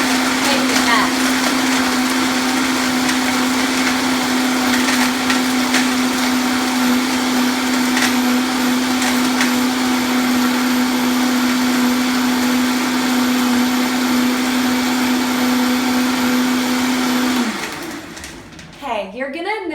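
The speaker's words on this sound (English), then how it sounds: "we're going to put the lid on the Vitamix and we're just going to let it go for maybe 30-45 seconds" A Vitamix blender whirs loudly and steadily, pulverizing soaked almonds with water for almond milk, a constant high motor whine holding for about seventeen seconds before it winds down and stops.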